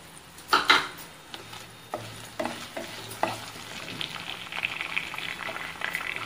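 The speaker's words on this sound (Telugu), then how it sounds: "ఇప్పుడు పోపులు కూడా వేసుకుని వేపేసుకుందాం" Spices are tempered in hot oil with browned garlic cloves in a pan: sharp crackles and spoon scrapes hit early, then a rising, continuous sizzle as the frying settles.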